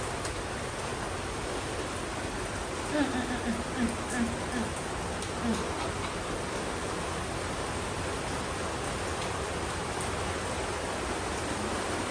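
Heavy rain pours steadily as a dense, constant hiss, with a few faint voices briefly audible partway through.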